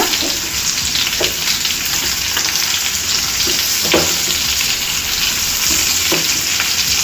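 Turmeric stirred into a sweet mango curry frying in a pan, a loud, dense, continuous sizzle with soft intermittent spoon scrapes, close up and without talking.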